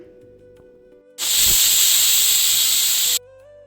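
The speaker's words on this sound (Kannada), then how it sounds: "ಈಗ ಲಿಡ್ ಕ್ಲೋಸ್ ಮಾಡಿ ಒಂದು 2 ವಿಷಲ್ ಕೂಗಿಸ್ಕೊಬೇಕಾಗತ್ತೆ." A pressure cooker cooking yellow moong dal and vermicelli kheer lets out one loud, sustained burst of hissing steam lasting about two seconds, starting and stopping abruptly against a quiet kitchen.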